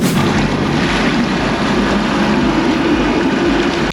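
Small boat travelling on the Danube, a loud continuous engine drone with rushing water and wind buffeting the microphone, steady throughout with no voices.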